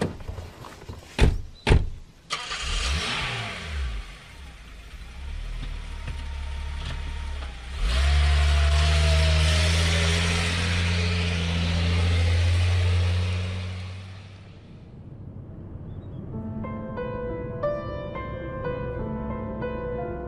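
Car doors thump shut in quick succession, then a car engine starts and runs at a steady mid-pitched drone that swells briefly before fading away. Soft music takes over at the end.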